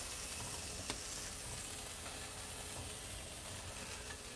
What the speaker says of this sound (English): Potatoes are boiling.